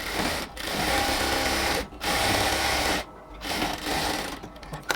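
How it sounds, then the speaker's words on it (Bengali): A sewing machine stitches lace onto ladies' pant fabric along a half-inch seam, giving steady close whirring runs broken by a few short pauses. "ইঞ্চির মতো করে সেলাই করে যাব।"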